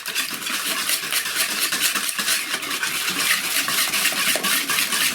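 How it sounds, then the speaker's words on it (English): Eggs and sugar are whisked briskly in a bowl with a rapid, steady rhythm of metallic ticks and swishes. The whisking is loud and close and continuous throughout, with no talking. "Give those eggs a bit of a beating."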